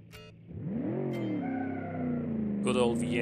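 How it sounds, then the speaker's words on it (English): A Jeep offroad truck with a V8 engine drives off: the engine revs up from near quiet into a steady roar, its pitch rising and then holding, with a brief higher whine near the end. "Good old V8 in this Jeep"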